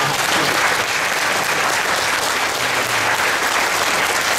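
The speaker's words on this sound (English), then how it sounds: "give him a round of applause" A crowd at a martial arts demonstration applauds, a dense, steady roar of clapping that holds at full strength for the whole few seconds.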